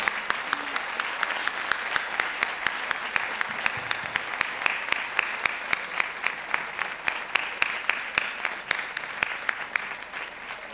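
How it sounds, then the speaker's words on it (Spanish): Festival audience applauds steadily for about eleven seconds, a dense even patter of many hands clapping at moderate distance with no voices standing out. "Así que, a aplaudir otra vez."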